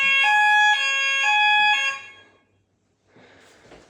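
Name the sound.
fire alarm bells sounding during a test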